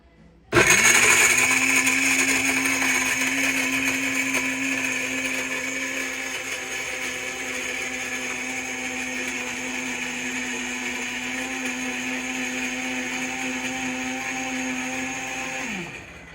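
A blender making plant milk starts abruptly and runs loud and steady with a high whine for about fifteen seconds, then spins down and stops.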